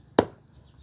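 A single sharp knife chop through free-range village chicken on a cutting board, close and brief, followed by quiet.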